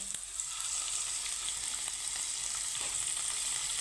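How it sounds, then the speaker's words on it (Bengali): Shrimp fry in hot oil in a pan, making a steady close sizzle with faint crackles, and no one speaks. "তো চিংড়ি মাছটাকে আমি একটু হালকা লাল করে ভেজে নেব"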